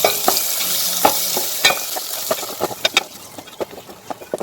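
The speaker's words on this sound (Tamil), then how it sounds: "நறுக்கி வச்சிருக்கிற இன்னொரு தக்காளியும் போட்டு வதக்கலாம்." Chopped tomato sizzles and sputters in a hot pan while a utensil stirs with irregular scraping clicks, close and steady, while making tiffin sambar.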